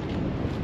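Wind rushes across a golf course in a brief, steady, broadband roar, loud and close like a gust buffeting the microphone, with no voices heard.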